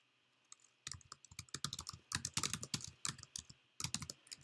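Code is typed on a computer keyboard in quick, uneven bursts of crisp close key clicks, with short pauses between runs in an otherwise quiet room.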